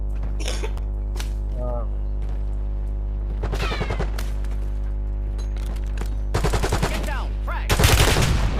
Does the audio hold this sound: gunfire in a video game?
yes